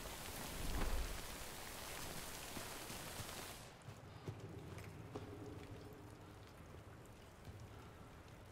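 Rain falls in the video game Death Stranding as a dense, steady hiss of rain that is strong at first and then thins to a softer patter with scattered drops, quiet and unbroken.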